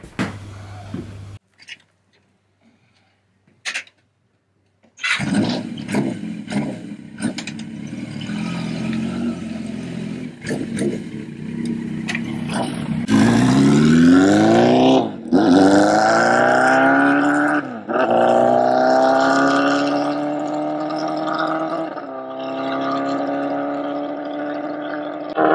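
A cold engine fires up after a quiet pause, idles roughly and unevenly while running rich, then revs hard several times with a rising, strained pitch, loud and close.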